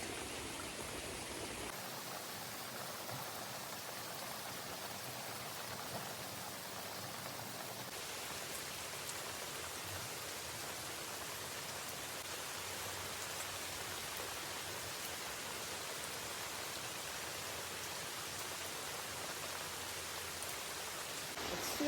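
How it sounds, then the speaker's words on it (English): Steady rain falls throughout on an outdoor trek, a dense, even hiss of drops on surfaces with no voices, slightly heavier after the first few seconds. "It's still raining"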